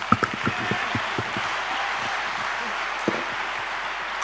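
A lecture audience greeting Dr. Shashi Tharoor with mild, scattered clapping, a soft hiss of hands with a few sharper nearby claps and a voice talking over it.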